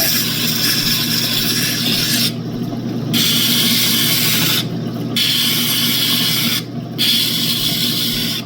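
Opal stone ground and polished against a loud sanding wheel, a continuous harsh rasping hiss with the motor hum underneath, broken by three brief lulls where the stone lifts off, close and without talk.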